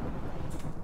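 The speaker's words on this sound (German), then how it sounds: "Ein Gewitter." Thunder rumbling during a thunderstorm in the video game Rimworld, a brief low rolling rumble with a hiss of rain on top, at moderate loudness.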